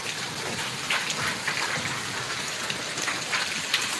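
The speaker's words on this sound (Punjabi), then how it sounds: "ਤੇ ਨਾਲ ਮੀਂਹ ਪੈ ਰਿਹਾ" Heavy rain mixed with hailstones pelting down over wheat fields, a constant close hiss of drops on surfaces with scattered harder hits throughout, loud and unbroken, no talking.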